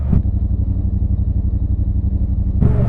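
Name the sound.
motorcycle passing by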